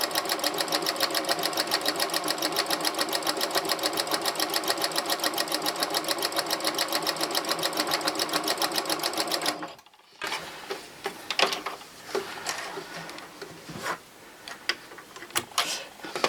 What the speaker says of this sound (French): Et je viens coudre tout simplement.